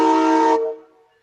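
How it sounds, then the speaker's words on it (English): A slow-moving train's horn blares loud and close as a sustained chord, then cuts off abruptly and rings out in a short fading echo. "even though the train's moving at 5 miles an hour, they still insist on blasting the freaking horns"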